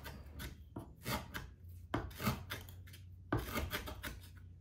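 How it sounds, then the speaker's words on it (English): Plant material being finely chopped with a knife on a board, quick rhythmic bursts of crisp cutting taps in short clusters, close but quiet, with no talking. "chop up your plant material until it is finely chopped and add it to your jar"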